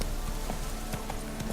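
Roach, the horse in The Witcher 3: Wild Hunt, gallops with quick, rhythmic hoofbeats clip-clopping close by, steady and moderately loud against a soft, wind-like hiss.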